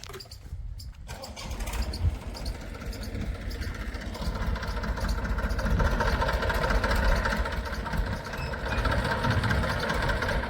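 A farm tractor runs in a groundnut field while spraying pesticide, its engine a steady, close, low rumbling drone that holds at an even level for about ten seconds.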